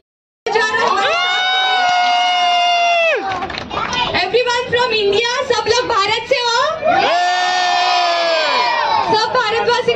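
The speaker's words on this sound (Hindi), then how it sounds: "जोरदार तालियां हो जाए आप महाराष्ट्र वालों के लिए" A crowd of passengers on a cruise ship claps and cheers loudly. Long musical or sung tones open and close the stretch, and a burst of crowd noise sits between them. Voices mix in with the cheering throughout.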